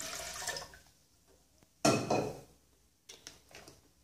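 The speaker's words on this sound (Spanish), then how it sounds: "Agregamos en la licuadora los" Water, 375 millilitres of it, pours into a blender in short splashy bursts, a brief gush first, then a louder main pour, and a final trickling splash, quiet and close.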